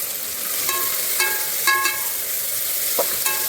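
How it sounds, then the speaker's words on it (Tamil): Onion fries in a pan for vegetable biryani: a steady sizzle runs throughout, broken by a few light scraping stirs and clinks of a spoon against the pan. "இது நல்லா ஃப்ரை ஆகட்டுங்க."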